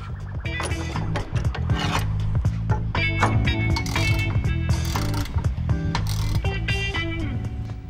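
Steering components are tightened on a second-generation Chevelle suspension with a ratchet, with busy mechanical clicks and rasping clatter heard close, layered over a steady musical background.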